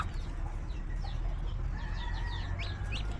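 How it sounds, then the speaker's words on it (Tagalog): Chickens and fowl calling outdoors in the rural Philippine countryside, with scattered short clucks and chirpy calls over a steady background hum. "Mga manok. Ayan, naglalakad-lakad lang sila."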